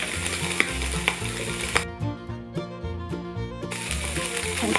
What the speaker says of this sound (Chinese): 先放皮的那面下去煎，旁边呢我们放虱目鱼香肠一起煎